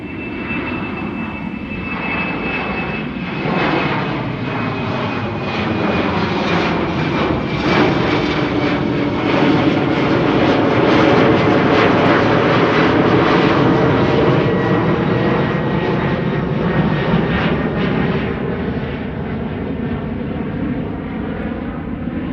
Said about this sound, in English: This is the 777 to Lima in Peru.